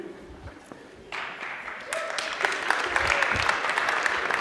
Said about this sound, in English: Did you guys just applaud someone for taking a picture while standing on a chair?